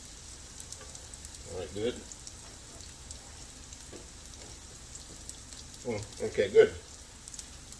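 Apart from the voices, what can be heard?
onions frying in a pan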